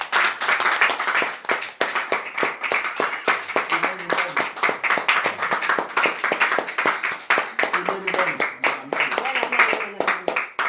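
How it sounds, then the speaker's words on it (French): Congregation clapping steadily in a church service, a dense run of sharp hand claps with a fairly even rhythm over about eleven seconds, loud and close, with faint voices mixed in. "Il faut acclamer le Seigneur."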